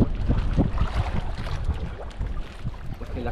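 Rough sea churning around a small fishing boat at a red grouper spot: a continuous wash of wind and water with low, rolling thumps from waves against the hull, fairly close and steady throughout.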